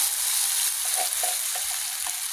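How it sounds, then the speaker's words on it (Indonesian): Garlic and green chilies sautéing in a pan for vegetable lodeh with salted fish, a steady loud hiss of frying oil throughout and a few faint stirring taps beneath it. "Ini kita tumis lagi sampai benar-benar harum dan matang ya."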